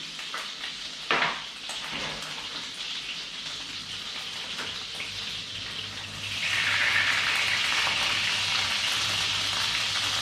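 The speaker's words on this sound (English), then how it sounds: "So my water is practically boiling." Salted water in a pot comes to a boil on a stove, with a steady hissing, bubbling wash that grows noticeably louder and denser partway through, with no talking.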